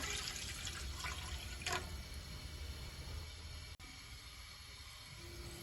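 A steady, gentle liquid pour as 1.5 kilos of milk runs into a pan, a soft continuous splashing hiss at close range that carries on for several seconds, with no talk.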